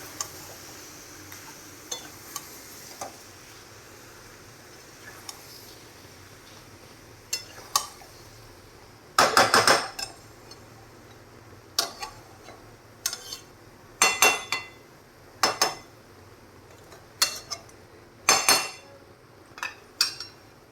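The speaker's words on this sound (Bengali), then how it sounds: "এবার মাংসটা হালকা নাড়াচাড়া করে মশলাটার সঙ্গে মিশিয়ে নেব।" Chicken being stirred into spice paste in a pot for chicken maharani, heard as a series of sharp utensil clinks and scrapes against the pot at irregular intervals, close and fairly loud over a quiet background with no talk.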